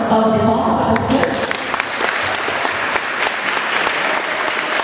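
A lecture audience applauds a teacher after her talk: loud, dense clapping that swells in after a brief opening of voices and continues steadily to the end.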